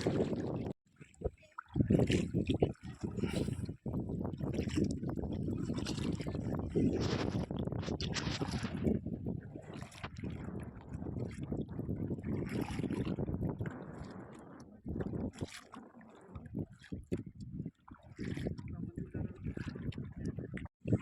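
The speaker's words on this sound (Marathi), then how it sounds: "थोडा वेळ मी चालवतो बोट आतनं शूटिंग करतो" A motor boat travels through a mangrove creek, its engine droning steadily and close throughout, with water churning alongside and voices talking over it at times.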